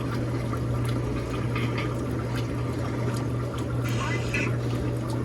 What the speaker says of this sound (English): That was your spray rinse.